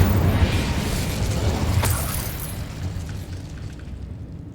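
The Incendio fire spell cast in Hogwarts Legacy, a roaring whoosh of flame with a crackling burst that slowly fades into a low rumbling tail.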